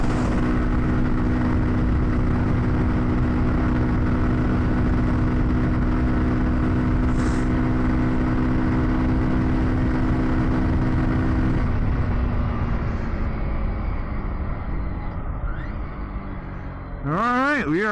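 A Kawasaki Z125 Pro motorcycle rides at full throttle at about 53 mph, its loud, continuous engine drone, likely mixed with wind, holding steady and easing slightly near the end.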